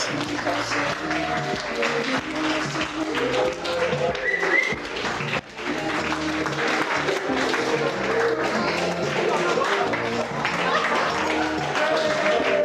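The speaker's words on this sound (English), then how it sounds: "Keep the round of applause going." An audience at a wedding celebration keeps up continuous clapping and applause, loud and close, with a voice talking over it throughout.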